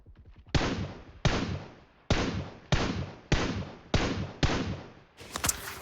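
Seven heavy, evenly spaced gunshots ring out one after another in the video game PUBG, each a loud sharp blast with a decaying tail, followed by a brighter crack at the end.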